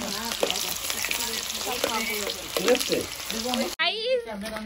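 Meat for a winter picnic meal sizzles and hisses in a hot pot as excess water cooks out. A steady wet frying noise runs throughout under people talking nearby, then cuts off sharply near the end.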